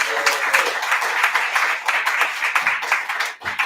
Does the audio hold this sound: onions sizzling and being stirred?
no